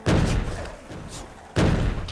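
Main cannon firing in Factorio: two heavy, deep booms about a second and a half apart, each with a thudding low-end punch and short decaying tail.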